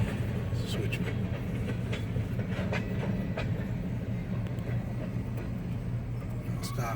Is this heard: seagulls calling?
no